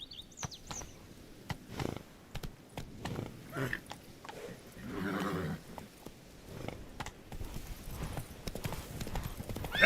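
Geralt's horse Roach galloping in The Witcher 3: a quick run of hoof clip-clops with a short whinny partway through, close and clear, with bits of game noise in between.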